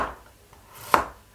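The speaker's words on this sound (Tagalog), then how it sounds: "Hiwa po tayo ng garlic." A knife slices through garlic on a cutting board with one soft scrape, then a single sharp, close cut tap, with a hushed kitchen background.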